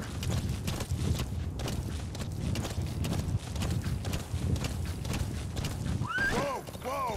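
A horse walks in Metal Gear Solid V, its hooves clip-clopping steadily, close and clear, under someone talking, with a short squealing call near the end.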